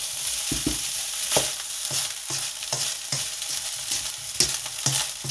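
Kofta fried rice sizzles in a pan with a steady frying hiss, broken by repeated scraping and stirring strokes from a spoon at an irregular rhythm, close and fairly loud.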